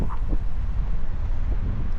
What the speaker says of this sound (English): So right now it's windy.